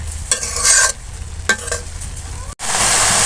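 Potatoes and Malabar spinach fruit fry with a bay leaf in a pan, sizzling under several close scraping strokes of a stirring spoon, followed by a steady hiss.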